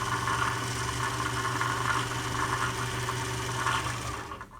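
A Kenmore Sears 148.14220 sewing machine winds a bobbin with a steady, close mechanical whir and a continuous motor hum throughout.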